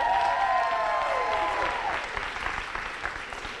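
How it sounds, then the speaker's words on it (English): College students cheering and whooping at a youth voting rally, a loud shrill whistle-like cheer sliding down at first, then scattered clapping and yells fading over a few seconds. "same level of cheer if you're registered to vote"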